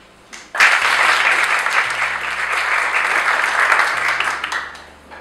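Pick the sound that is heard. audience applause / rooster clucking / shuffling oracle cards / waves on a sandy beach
audience applause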